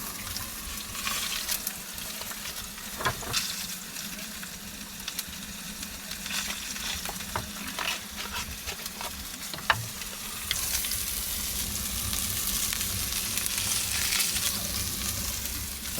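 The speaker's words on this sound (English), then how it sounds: "Let's flip this steak real quick." A steak sizzles and fries steadily in a pan with butter and garlic at a van campsite, close and continuous, with scattered clatters and a louder, brighter hiss near the end, and no talking.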